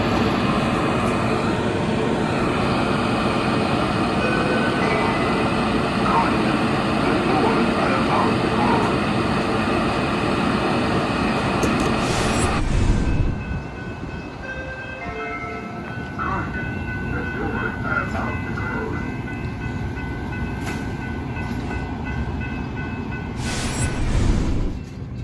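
Aboard a Metra commuter train, a steady rolling rumble fills the car, then briefly cuts out and resumes more quietly, with tonal door-closing chime notes ringing over the noise.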